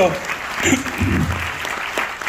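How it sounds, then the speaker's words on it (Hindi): A crowd at a farm-products presentation claps briefly, a loose patter of applause mixed with a voice talking over it. "बिल्कुल तालियां बजा सकते हैं यार"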